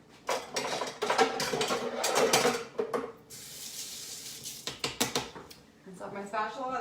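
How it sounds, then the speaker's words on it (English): A spatula rinsed under a running kitchen tap, water splashing and metal clinking against the sink in short bursts, close by, with a person talking over parts of it. "Rinse off my spatula"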